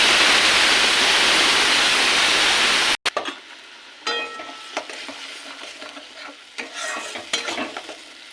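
Spice paste hitting hot oil, with black cumin already in the pan, for a tilapia fish curry: a loud, dense sizzle that cuts off sharply, then quieter crackling and scraping stirs.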